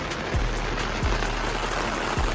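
Heavy rain from the first downpour of the season falls steadily in a neighbourhood, a dense continuous hiss with a few low thumps, and no voices.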